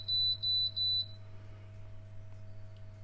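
An air fryer beeps three times as it is set to 200 degrees, each beep a short clear double tone close by, followed by a quiet steady electrical hum.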